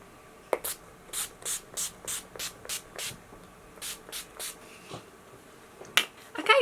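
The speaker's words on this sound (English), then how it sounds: "we're going to finish it up with Urban Decay All Night Pollution Protection Setting Spray" Urban Decay All Night setting spray misted in a series of about a dozen short, soft, evenly spaced spritzes close by, followed by a slightly louder rustle at the end.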